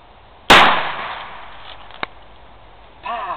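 A single sharp gunshot fired at a possum during a possum hunt, loud and close with a decaying tail, followed by a faint click and distant voices.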